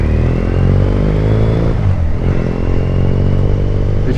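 A Triumph Bonneville engine with TOR exhaust rumbles loudly up close, its exhaust note rising and dipping as it revs shifting into first gear, with no talking.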